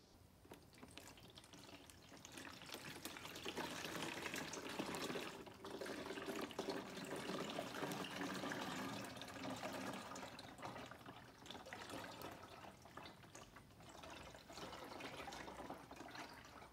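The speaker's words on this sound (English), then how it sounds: "So we've got our old fluid drained out of our pan here." Old transmission fluid from an Infiniti G35 pan pours into a jug in a steady, continuous liquid trickle, close and fairly soft, with no talking.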